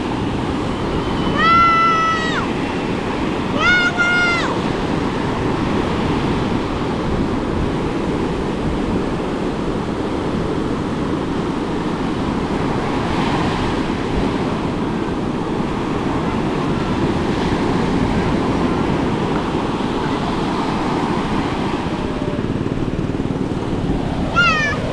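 Strong river current rushes in a steady, dense wash of water noise, loud and close throughout, with wind buffeting and a few brief squeaky calls early on.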